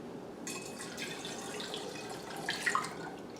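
Homemade hummingbird nectar is poured through an oversized funnel into a feeder, a quiet, close trickle of liquid with a few faint splashes and drips near the end.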